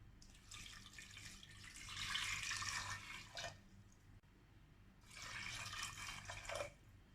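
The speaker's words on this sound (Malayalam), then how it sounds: "ഇനി നമുക്കിതിലേക്ക് ഒരല്പം വെള്ളം ഒഴിച്ചു കൊടുക്കാം." Water gushes into a cooker holding tamarind and lemon in two steady pours, the second after a short pause, close and fairly loud.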